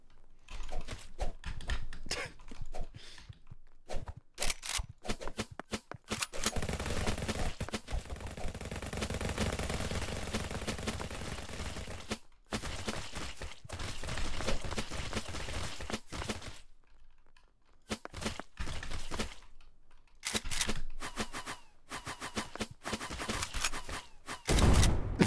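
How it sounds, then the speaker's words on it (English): Rapid minigun fire in a Steam video game, sustained dense bursts running for long stretches with brief gaps and pauses, loud and close throughout. "I minigunned into the sky"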